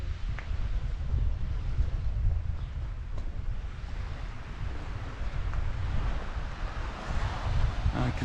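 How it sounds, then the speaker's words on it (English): Small sea waves breaking against a jetty at Puerto de Pollensa, a steady close wash and rumble of surf with breezy wind noise on the microphone. "you'll hear the waves. They're only little waves, but they do make a lot of noise, these little waves."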